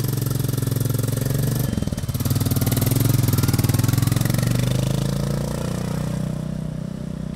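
A traffic police PCR Bullet motorcycle engine runs steadily, loud and close, with a throbbing, clattering idle-like rhythm that dips briefly around two seconds before holding strong.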